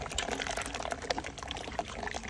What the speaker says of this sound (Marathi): आता हे सगळं मिश्रण एकत्र करून याच्यामध्ये टाकते मसाल्यामध्ये